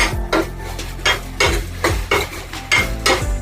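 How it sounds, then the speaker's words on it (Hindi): Masala spices cook in oil while a spoon scrapes and stirs a metal pan in a home kitchen, giving a steady rhythm of repeated scraping strokes over a soft sizzle. "यहाँ पे तेल के साथ पक रहा है मसाला"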